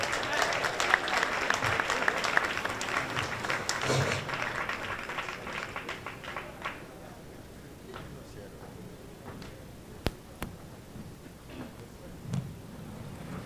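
An audience at the Jamaica 60 New York media launch applauds a senator and an ambassador. Clapping is strong at first, fades after several seconds, and gives way to talking and scattered knocks.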